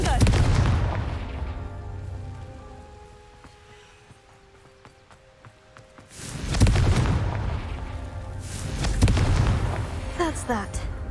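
A fiery blasting spell detonating in Hogwarts Legacy, heavy booming bursts around the midpoint and again near the end, with game music and hoofbeat-like thuds at the start.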